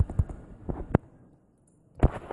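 A few short explosive bursts from an ice bomb skill in the Saint Seiya 3D mobile game, sharp separate pops in a quick cluster, then a pause and another louder burst, with no voices.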